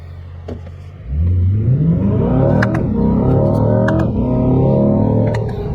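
A C8 Corvette on its stock OEM throttle setting idles briefly, then launches hard, the engine roaring up through rising revs with a gear change, loud and close from inside the car.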